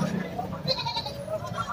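Goats bleating at a busy early-morning goat market, a few wavering calls rising over a background of people talking and general market bustle.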